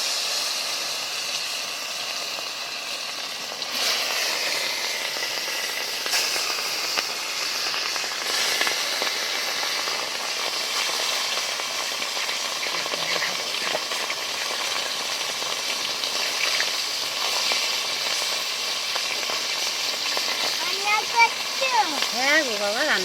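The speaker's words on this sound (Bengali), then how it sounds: "তেল গরম হয়ে গেছে, মাছটা ভেজে নেব।" A large fish fries in hot oil in a village kitchen, making a continuous broad hiss and crackle that carries on throughout, with voices talking over it near the end.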